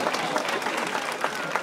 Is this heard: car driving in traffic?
no